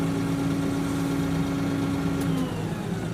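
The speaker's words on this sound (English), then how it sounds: "We'll stop the tractor as well." A tractor engine idles with a steady low rumble and a constant hum, running alone and unchanging throughout.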